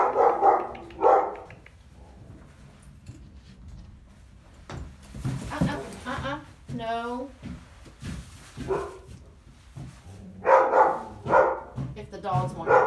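Dogs bark in short, loud bursts at the opening and again near the end, with a person speaking softly in between.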